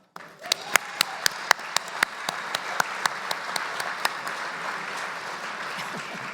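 A crowd applauds at an evening gala honoring a company's leadership, a steady wash of clapping with sharp individual claps standing out near the microphone, gradually thinning toward the end.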